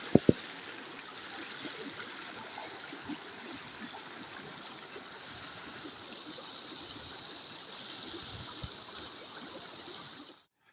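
A river flows steadily past on a nature hike near a cave, a constant rushing babble of water heard up close, with a few faint knocks at the start.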